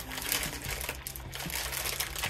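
Crinkling and rustling of a plastic packaging bag being torn open on a Monster Jam Fire and Ice stunt set, quiet close-up crackles with a few sharp snaps.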